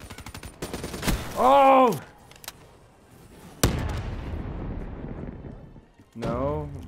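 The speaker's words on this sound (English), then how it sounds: "there's some guy shooting and I thought it was a bad guy" Loud gunshots and short bursts crack through a Call of Duty: Black Ops III match, sharp reports scattered between pauses, with a player's voice exclaiming and other voices talking over the shooting.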